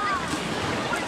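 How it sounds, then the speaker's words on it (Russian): Sea waves rolling in sideways onto the Black Sea shore at Dyurso, a steady broadband wash of surf with wind noise, close and continuous. "А здесь прям боковые волны сюда подходят."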